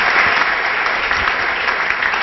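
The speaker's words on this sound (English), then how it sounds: "could we just give him just one more round of applause of appreciation" A church crowd gives Pastor Anthony a steady round of applause, dense and close, with many hands clapping at once in a constant, bright patter from start to finish.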